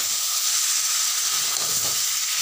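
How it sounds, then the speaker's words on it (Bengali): Fried potato and pointed gourd tipped into a hot pan with garam masala, no ghee, giving a steady, close, even frying sizzle that hisses throughout without a break. "এবারে ভাজা আলু পটলটা দিয়ে দিলাম"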